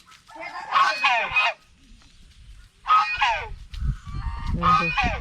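Loud, harsh goose honks in two bursts with a pause between, followed by more honking over low rustling and background noise, outdoors at dawn in Gopiballavpur, Jhargram.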